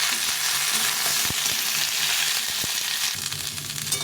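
Jackfruit pieces frying in a pan of hot oil, a dense continuous sizzle heard close, broken by a few sharp clicks of a utensil against the pan.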